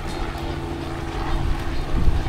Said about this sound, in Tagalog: Yun yung helicopter